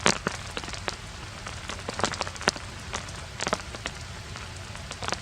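Light misting rain falls steadily on a tent during a winter overnight camp, a soft continuous patter broken by scattered louder drops striking the fabric nearby.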